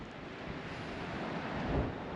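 Steady wind rushing and buffeting against the microphone beside a windmill, a broad low roar that swells slightly toward the end, with no voices.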